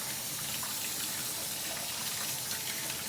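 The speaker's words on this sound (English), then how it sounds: "And then you would rinse with a nice lukewarm water." Lukewarm tap water runs steadily into a sink while dishes are rinsed, a continuous close gushing hiss with no voices.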